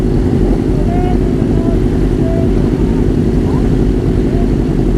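A racing motorcycle on a track day at Capuava in Brazil gives a loud, steady engine drone that fills the whole stretch.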